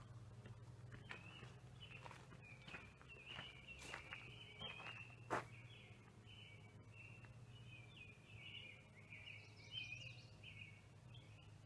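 Birds singing in a garden, faint repeated chirps and short warbling phrases over a low background hum, with a few soft thumps of movement nearby.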